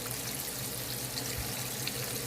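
Grease draining off freshly fried chicken onto paper towels in a home kitchen, a steady, unbroken hiss of trickling and sizzling liquid that holds even throughout, close and alone with no talk.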